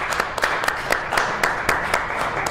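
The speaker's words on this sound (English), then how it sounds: "It deserves a round of applause." Applause from a crowd at a live show inside a Buffalo Wild Wings restaurant, a steady wash of clapping with a few sharper claps standing out, fairly close and continuous for a couple of seconds.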